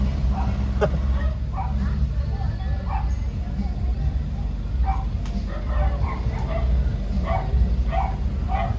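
Dogs bark intermittently at a distance over a constant low rumble of background noise.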